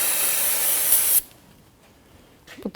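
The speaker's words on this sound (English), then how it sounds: "Just going to take some of the parts cleaner." Aerosol parts cleaner sprays hard onto a brake hose fitting on a 2007-2017 Jeep Patriot, one loud steady hissing burst of just over a second that cuts off abruptly, followed by quiet with a faint sound near the end.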